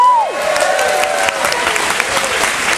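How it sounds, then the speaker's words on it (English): Loud, steady audience applause with some crowd noise fills a cruise ship show during morning announcements, a dense wash of clapping that carries on without a break. "You may applaud"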